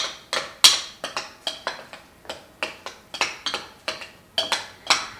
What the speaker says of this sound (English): then we're just gonna mix this up. All the ingredients incorporated.